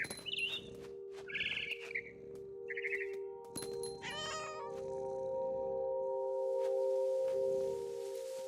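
Cat meows in What Remains of Edith Finch, several short mewing calls in the first seconds and then a longer warbling caterwaul, all over a steady humming game drone.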